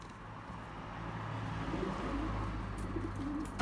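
A pet pigeon coos softly in a few low, rolling bursts near its nest, faint against a steady background rumble.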